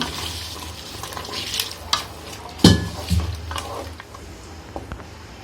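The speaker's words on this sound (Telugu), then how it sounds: "మటన్లో వేడి నీళ్ళు పోసుకుంటున్నా" Hot water is poured into mutton masala curry frying in a pan, giving a steady sizzle with stirring scrapes and a few sharp clatters of a utensil against the pot.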